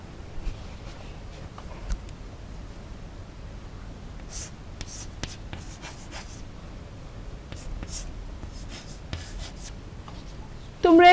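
Marker or chalk writing on a board during a children's English lesson, heard as faint, intermittent scratchy strokes in short bursts over quiet room noise, with a brief louder sound at the very end.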